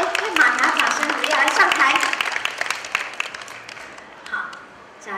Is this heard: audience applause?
yes